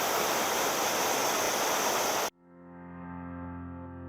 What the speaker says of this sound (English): With water running low, we still enjoyed this waterfall.